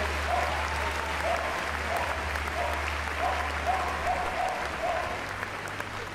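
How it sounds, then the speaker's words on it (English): Steady crowd applause fills an indoor arena after a dog agility competition, continuous clapping at an even level for the whole stretch, with low background hum beneath it. "And let's give them all a big round of applause."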